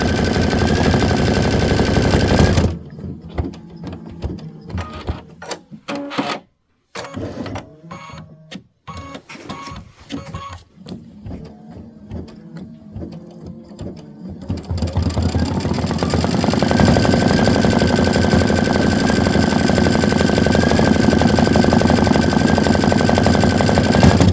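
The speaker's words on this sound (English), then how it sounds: "And I'm going to just stitch them." A sewing machine stitching a bench pillow, a loud fast mechanical whir running at length, breaking into shorter bursts with sharp clicks and pauses before resuming steadily.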